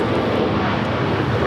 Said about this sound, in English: The flight heading to Tampa, Florida, now rolling down at 25 right.